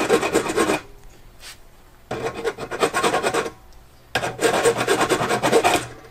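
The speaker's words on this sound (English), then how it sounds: "So what I'm filing here is not actually the piece I need for the robot, but it's the remainder of the stock." A hand file rasps across cut metal axle stock for a VEX robot, coming in three loud, close bursts of rhythmic back-and-forth strokes separated by short pauses.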